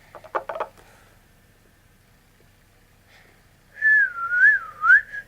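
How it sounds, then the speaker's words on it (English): A person whistles a short wavering tune alone, a few bending notes close up after brief tapping sounds and a quiet pause. "I've been having like a habit of whistling all the time"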